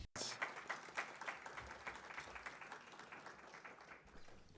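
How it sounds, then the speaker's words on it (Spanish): An audience applauding at a Seventh-day Adventist Church press conference as a communications director is welcomed, a burst of clapping that starts suddenly, then tapers off gradually. "Un aplauso."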